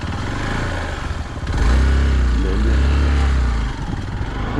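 A motorcycle engine labors up an off-road mountain track on the route toward Kailash Mansarovar, a loud close drone that surges into a heavier, deeper pull midway before easing, with a rider's voice briefly over it.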